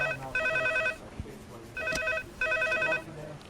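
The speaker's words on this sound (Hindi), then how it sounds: "हे भगवान, किसी मुसीबत का फोन नहीं होना चाहिए।" A telephone rings in three repeated bursts of a bright electronic trill, loud and close, with short gaps between rings and a brief thump in one gap.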